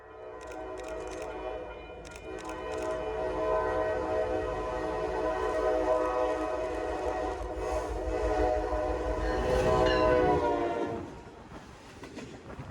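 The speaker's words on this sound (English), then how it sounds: "hoping to catch a few PanAm Southern trains" Pan Am Southern freight trains roll through Ayer, Massachusetts, a loud continuous rumble and clatter of passing cars with a long, blaring multi-tone horn sounding over it, fading toward the end.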